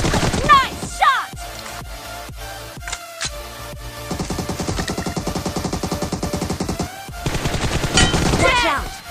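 Loud, close gunfire in the PUBG/BGMI battle royale game: sharp single shots followed by sustained rapid automatic bursts, with brief pauses between volleys.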